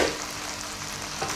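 Chicken feet fry in a pan for adobo, a dense, steady, close sizzle and crackle with no voices.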